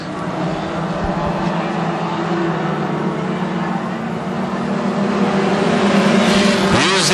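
Hornet class race cars roar around Ogilvie Raceway, a steady loud engine drone from several cars bunched together, rising slightly as one pulls up close near the end.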